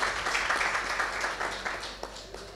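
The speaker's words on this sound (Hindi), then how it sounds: "इशरत आपा के लिए तालियां होनी चाहिए।" Applause for Ishrat Apa at a lifetime achievement award event, a brief patter of clapping from a seated audience that fades slightly toward the end.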